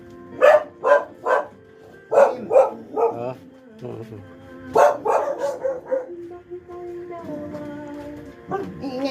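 A dog barking in a burst of sharp, loud, close barks with a few yips, pausing briefly before more barks, while a person speaks between them.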